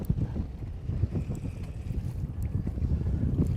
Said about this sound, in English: Since the wind's picked up, definitely picked up and stirred up the bottom.